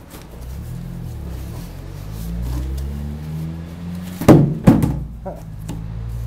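Shipping box of a Pro Lift T-5300 mower lift being opened: a low rumble and scraping, then two distinct hollow thunks as the cardboard lid is worked loose, with someone talking at times.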